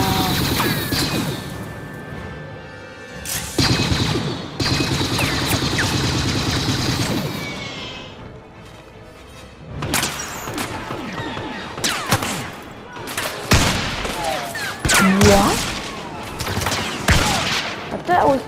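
Rapid bursts of blaster fire from the player's gun in Star Wars Battlefront come in loud clusters with brief gaps, close and harsh, alongside other battle effects.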